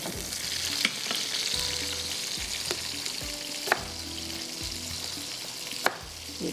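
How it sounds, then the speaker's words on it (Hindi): Korma and potato pieces frying together in oil in a pan, a continuous dense sizzle with periodic stirring scrapes and a few sharp utensil taps, close and alone without talk. "कोरमा भी साथ में फ्राई हो रहा है"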